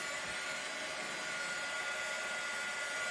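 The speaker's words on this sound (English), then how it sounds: "be careful when you're using your heat gun on plastic" A heat gun blowing hot air to dry paint on a plastic Dollar Tree flower pot, giving a steady, close, unbroken whooshing hum with no talking.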